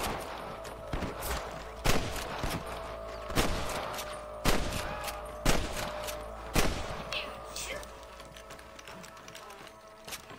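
Gunfire in the Old West setting of Red Dead Redemption: a rifle shot roughly every second, sharp and loud, each trailing into a brief echo over a steady background rumble.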